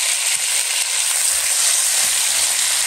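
Chopped scallions and diced tomato frying in hot oil in a wok, giving a loud, steady, close sizzle with a dense crackling hiss throughout and no talking.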